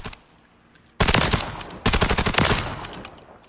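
An automatic weapon in Call of Duty Modern Warfare III fires two rapid bursts, loud and close, the first about a second long and the second longer, each a fast rattling stream of shots.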